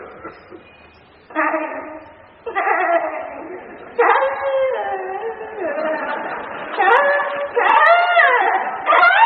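A human voice imitates a goat tied in a field crying out in the rain, a run of loud, wavering bleats in separate bursts that grow stronger and more strained.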